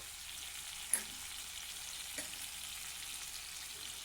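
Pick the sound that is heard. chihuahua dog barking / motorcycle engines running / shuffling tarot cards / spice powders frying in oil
spice powders frying in oil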